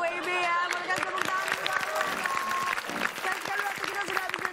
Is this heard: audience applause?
yes